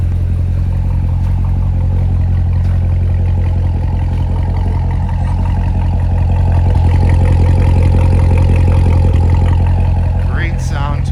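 A 2019 Chevrolet Corvette Grand Sport 1LT with NPP exhaust and dry-sump engine idles close by with a steady, deep rumble throughout, with faint clatter on top.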